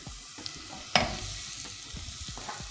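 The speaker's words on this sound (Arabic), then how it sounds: "هشوح البصلة سنة، وبعد كده هزود الثوم" Onion sautéing in a pan, stirred now and then, a low frying crackle with a sharp clatter near the start and soft intermittent scrapes, close by with no talking.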